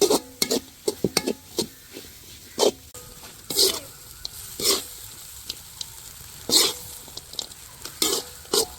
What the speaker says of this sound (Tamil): கொஞ்சம் லீக்ஸும் கேரட்டும் கொஞ்சம் நாங்கள் சேர்க்குறோம்